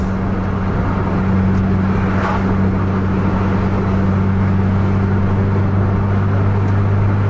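A Scania bus engine drones at full throttle in a loud, steady roar with a strong low hum, heard from inside on a night road. A faint whoosh passes partway through, and nobody speaks.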